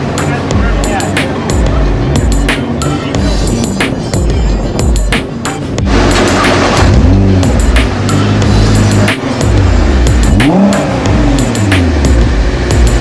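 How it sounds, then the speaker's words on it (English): A 2014 Nissan GT-R street car driven on the Homestead-Miami Speedway track, its engine a loud, steady drone with heavy road and wind roar that swells and eases as the pitch shifts. "Nissan GTR uh, 2014. Uh, probably one of the better street cars I've ever driven on a racetrack."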